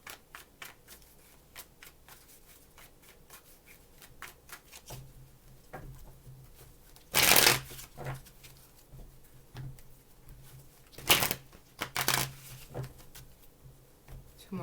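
Soft riffling and patter of cards being shuffled, with a few louder brisk bursts partway through, close by with a low steady hum.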